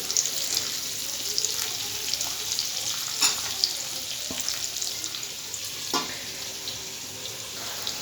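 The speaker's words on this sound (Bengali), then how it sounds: "আমি চাপা দিয়ে গ্যাসের ফ্লেমটা বাড়িয়ে ভাজবো, কারণ আমি আলুটা একটু বড় বড় করে কেটে নিয়েছি।" Large-cut potato pieces frying in oil over a raised gas flame for a fish curry, giving a steady, moderately loud sizzle with a few brief stirring clatters and no talk.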